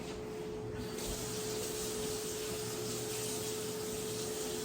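Water runs steadily from a kitchen tap while tongs are rinsed under it, a constant close splashing rush with no speech.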